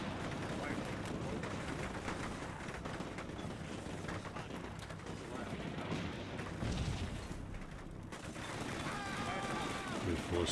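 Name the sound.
gunfire and artillery in video game Combat Mission Cold War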